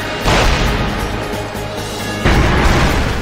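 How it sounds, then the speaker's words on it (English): Cannon fire in the action RPG Ys Seven, heavy booming blasts that fill the clip at high level, with a second loud volley hitting just past the two-second mark. "Those cannons kill them in one hit?"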